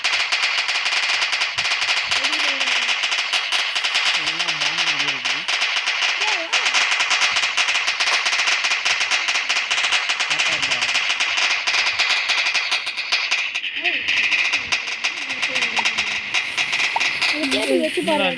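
Rapid crackling bursts of firecrackers and table crackers go off in a Diwali crackers video game, dense and continuous, with people talking over the popping throughout.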